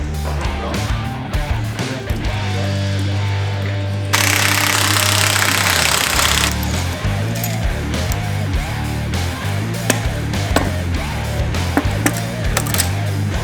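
A cylinder head being pulled off a camper engine in a workshop, with continuous loud mechanical clattering and knocking and a harsh burst of grinding noise partway through.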